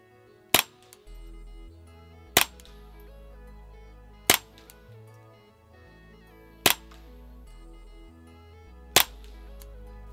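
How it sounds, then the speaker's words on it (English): Suppressed .22 rifle shots from a Ruger 10/22 Takedown fitted with a Tactical Solutions SBX barrel: five sharp, fairly quiet cracks fired one at a time about two seconds apart over a low steady background hum. "we're gonna put some rounds down range"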